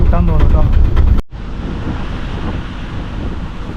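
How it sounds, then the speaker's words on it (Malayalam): Strong, cold wind roars steadily against the microphone, following a brief moment of voice at the start, at an apple orchard in Kanthalloor. "കാറ്റടിക്കുന്നുണ്ട് നല്ല തണുത്ത കാറ്റാണ് രക്ഷയില്ലാത്ത കാറ്റാണ്"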